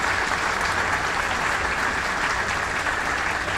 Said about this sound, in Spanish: a quien yo le pido un fuerte aplauso